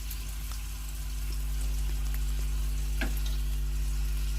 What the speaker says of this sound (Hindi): इस तरह से चलाते हुए अच्छी तरह से इसे गोल्डन ब्राउन होने तक फ्राई कर लें